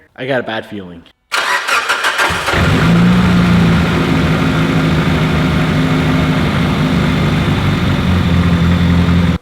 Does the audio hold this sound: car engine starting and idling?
yes